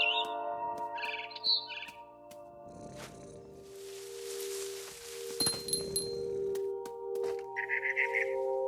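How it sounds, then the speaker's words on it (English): Bright, chirpy barn swallow calls in short bursts over a steady electronic hum, with soft rustling and clinks in between, from the video game What Remains of Edith Finch on PS5. "Then I heard chirping outside my window. It was a barn swallow going back to her nest."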